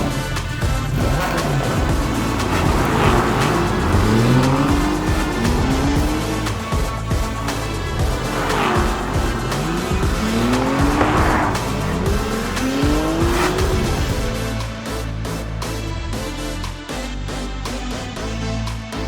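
Race cars roar around a track in Gran Turismo 7, engines droning continuously with repeated tire squeals sweeping up and down in pitch, loud and sustained throughout before easing slightly near the end.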